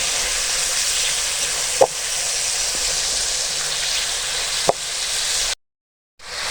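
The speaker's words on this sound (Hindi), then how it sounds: "इसमें चिकन शामिल कर देंगे। इसको अच्छा से भून देंगे हम" Chicken frying with masala in a pan for desi-style macaroni, a constant bright sizzle with two sharp clinks of a utensil against the pan, then a brief drop to silence.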